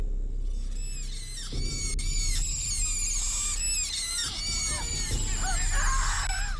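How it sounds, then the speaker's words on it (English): Ear-piercing screech of a mythical Maenad, a shrill sound effect of layered, wavering shrieks that rise and fall continuously over a low rumble, loud and sustained throughout. "that energy turned into an ear-piercing screech"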